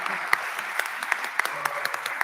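Audience applause at a future leaders conference, moderate steady clapping with sharp individual claps popping through and faint voices underneath.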